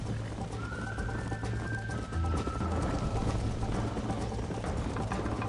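Horse hooves gallop in a steady, rapid rhythm in Red Dead Redemption, close and continuous, with a faint whistling tone drifting above early on.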